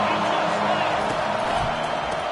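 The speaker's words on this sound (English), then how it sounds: "Third down, and this crowd is tearing the lid off this place." A football stadium crowd roars loudly and continuously on a third down, a dense wall of cheering with faint whoops inside it, while a commentator speaks over it.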